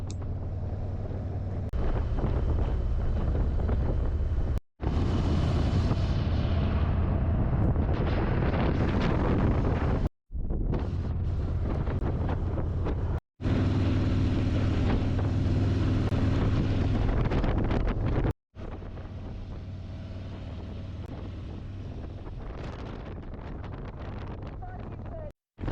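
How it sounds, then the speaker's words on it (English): Strong wind buffets the microphone during a ride on a road curving around a lake in Yellowstone, a loud, steady low roar in several long bursts broken by brief cuts. "today the wind was blowing pretty good"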